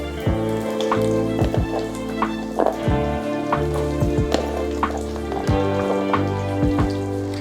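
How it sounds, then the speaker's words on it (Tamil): Whole shallots sizzling in sesame oil in a pan for fish curry, a close, continuous crackling sputter with scattered pops and a low background hum. "சின்ன வெங்காயம் ஆட் பண்ணிக்கலாம்"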